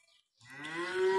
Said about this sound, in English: I've been watching this cow for a week